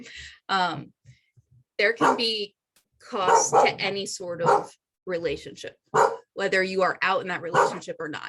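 A dog barks in short, scattered bursts in the background while a person speaks steadily in the foreground.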